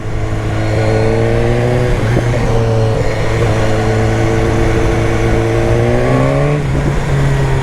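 A BMW motorcycle engine rides steadily then revs up, a loud close continuous drone with rising pitch through gear changes as the bike accelerates, with strong wind rush underneath.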